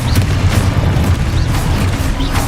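Spell explosions from the Hogwarts Legacy video game boom in a dense, continuous barrage of repeated blasts and thuds, loud and close, with no voices heard.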